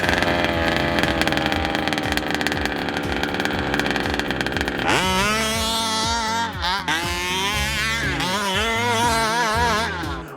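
A 1/5 scale RC petrol Baja 5B with a newly fitted Dominator style exhaust pipe buzzes loudly nearby, first at a steady high drone, then rising and falling in sharp revs.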